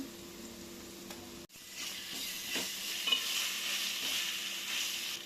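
Onions and ginger fry in oil toward golden brown for chicken fry-piece biryani, a soft, steady sizzle broken by one dull knock early on, with faint stirring scrapes afterward.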